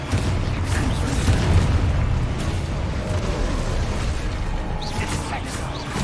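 A Hogwarts Legacy Expulso spell blast produces a loud, dense explosive roar with deep rumbling that stays heavy and continuous for several seconds, with faint crackling bursts layered through it.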